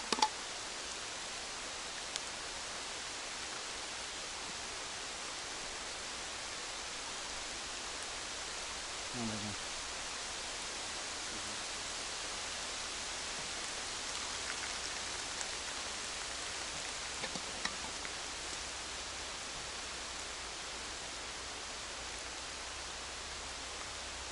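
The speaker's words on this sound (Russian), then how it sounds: "Грибной дождь." Light sunshower rain falling in the countryside during mushroom season, a steady, soft, even hiss that continues throughout with no clear individual drops.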